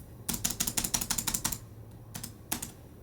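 Fast bursts of typing on a chiclet-style, single-zone backlit keyboard of a budget gaming laptop: a quick run of crisp, close key taps, a pause, then a few more isolated presses.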